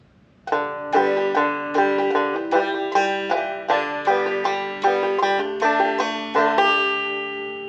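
A banjo plays a tune, a bright, plucked melody in a steady clawhammer rhythm, each note ringing with a twangy metallic tone, heard alone and up close.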